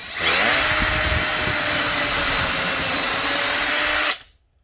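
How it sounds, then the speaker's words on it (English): A power drill runs through a Kreg 500-series handheld pocket-hole jig into a board, making one loud, close, steady whir that lasts about four seconds and then stops abruptly, with no talk. "So the holes are drilled"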